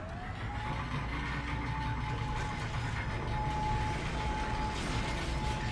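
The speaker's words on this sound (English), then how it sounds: "And now we take the elevator." Elevator running in the video game Dead Space: a steady mechanical hum and rumble with a faint sustained tone, continuous and even throughout, with no talking.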